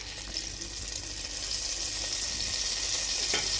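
A spoonful of oil, with butter, sizzles in a hot pot, making a continuous, even hiss that stays fairly loud and unbroken throughout.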